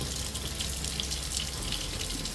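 Tap water runs steadily over an action figure's head being rinsed clean of polymer clay dye, a continuous close hiss of flowing water with no voices.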